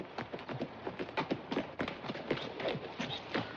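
A horse trots on firm ground, hooves striking in a quick, regular clip-clop beat, close and distinct, with no talking over it.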